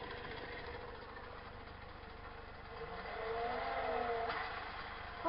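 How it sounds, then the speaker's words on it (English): PWM-controlled electric motor on a feedback circuit, running under load, gives a continuous low hum with a faint whine that rises and shifts in pitch partway through, alone without voices. "Let's actually put a load on the motor and see what happens now."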